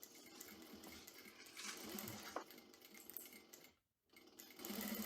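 Sewing machine stitching two fabric strap parts of a fastpack vest together, a steady continuous whir that stops briefly near the end and then starts again.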